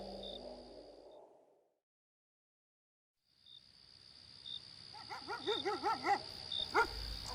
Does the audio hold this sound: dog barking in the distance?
yes